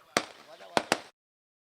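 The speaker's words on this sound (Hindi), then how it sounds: "यहाँ पर पटाखों की आतिशबाजी" Firecrackers burst at a local cricket match: three sharp, loud cracks, one early and two close together, with crowd noise around them before falling silent.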